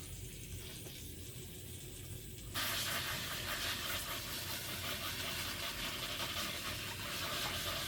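Air leaks with a constant broadband hiss from bubble hash making equipment, jumping abruptly louder after a couple of seconds and then holding steady and close.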